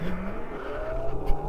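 A Yozma IN 10 motorcycle engine straining in first gear, a close, steady droning hum with a slowly rising pitch that holds continuously for a moment.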